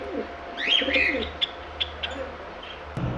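A Lahori Sherazi breeder pair of pigeons coos softly among scattered chirps and tweets from other caged birds, with a few short sharp calls standing out over a steady low hum.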